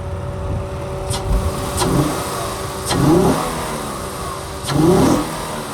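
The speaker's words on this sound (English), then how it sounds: "Rev it up here a little bit. Hear it at a little higher RPM." A 2008 Acura TL Type S engine idles and is revved to higher RPM in three rising bursts that fall back to idle, heard close with no talking.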